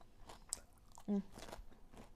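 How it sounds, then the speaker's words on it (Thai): Fresh raw or lightly blanched vegetables being chewed close up, a few soft crunchy bites and wet mastication over about two seconds, with faint background voice. "ก็จะกินเป็นผัก ผักสด ผักสดผัดลวกแทนข้าว"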